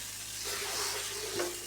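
Sardines and glass noodles sauté in a hot pan, a steady soft sizzle with faint stirring scrapes, one brief louder clatter near the end; no talking.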